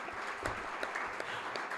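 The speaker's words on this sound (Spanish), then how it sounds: "Vamos a darle un aplauso." Church congregation applauding a visitor during a service, a faint, steady patter of clapping from a crowd.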